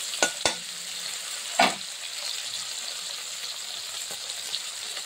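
Tomatoes salted in a pan fry with a soft steady sizzle, broken by a few sharp scraping knocks of stirring near the start and a fainter one later.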